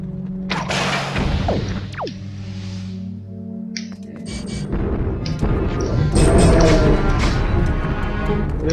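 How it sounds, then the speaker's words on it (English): Bomb blowing up in a video game, a sharp booming crash followed by rumbling debris and layered game effects and music, loud and close. "those things blow up bombs if they get too close to them"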